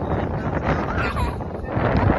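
Steady cold wind buffets the microphone, a loud rumbling roar throughout with no other clear sounds.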